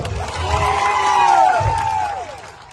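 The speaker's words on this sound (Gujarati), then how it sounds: "પોલીસ માટે એકવાર જોરદાર તાળીઓ પાડી લો" A crowd at a political rally bursts into applause and cheering for the police, a broad swell of clapping under a loud, reverberant voice on a public address system.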